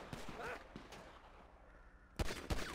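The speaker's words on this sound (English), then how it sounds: "Suspect is still alive, and he's continuing to shoot." A suspect shooting during a police patrol in GTA 5, set in snowy North Yankton: two sharp, fairly close shots near the end after a quieter stretch of softer distant pops.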